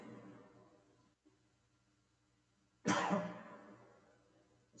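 A single sharp cough breaks through a quiet room during a sermon on Ephesians, loud and close, fading after a moment, with low murmuring before it.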